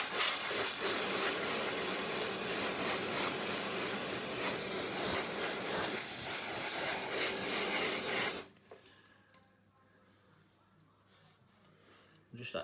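Aerosol cleaning spray blasts steadily onto the cooler housing of a PC, a loud continuous hiss running about eight seconds before cutting off abruptly into quiet room tone, with a brief spurt at the very end.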